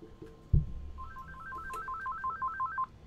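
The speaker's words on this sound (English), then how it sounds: "Why is this phone ringing?" A phone ringtone chirps in a repeating two-tone electronic pattern for about two seconds during a WWE 2K20 career-mode game, moderately loud over a low background rumble, with a thump just before it starts.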